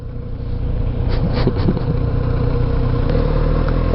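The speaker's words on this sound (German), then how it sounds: "Ja, schön im Standgas dahin rollen" Kawasaki Z900RS motorcycle rolling at idle on a town road, its engine a steady low burble close by, with a few brief higher blips partway through before settling back to an even idle.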